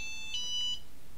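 A Lite Radio 3 radio transmitter, a buttoned unit with no screen, gives a short series of bright electronic power-on beeps, close and clear over a quiet room background.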